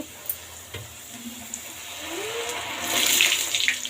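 A puri drops into hot oil and begins to sizzle, the frying hiss building in loudness over a few seconds, close up and without talk.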